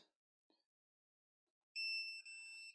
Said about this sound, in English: we'll just do a quick continuity check across the electrode lead